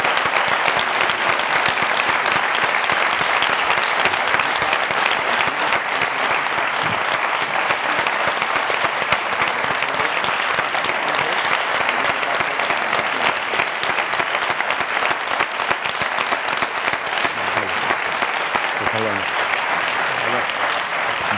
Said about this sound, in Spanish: yo creo que un aplauso para los candidatos